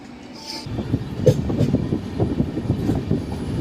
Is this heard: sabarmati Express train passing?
yes